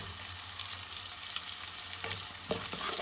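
Onions and spices fry in a pan for moong dal tadka, a steady close sizzle with a few soft stirring scrapes near the end.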